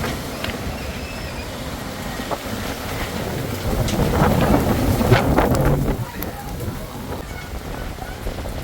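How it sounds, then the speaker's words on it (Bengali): Strong stormy wind under a sky thick with dark clouds on an early-summer day, a loud, continuous roaring rush that swells in gusts toward the middle before easing slightly. "ঝড়ের বেগে বাতাস হচ্ছে।"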